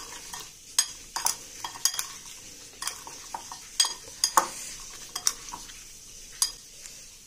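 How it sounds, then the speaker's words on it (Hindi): Soya chaap being stirred together with cream and a little salt in a pan: irregular spatula scrapes and clinks against the metal over a soft, low sizzle, close and fairly quiet, with no talking. "मलाई भी डाल देंगे, हल्का नमक, सबको मिक्स कर देंगे चाप को इसके अच्छे से"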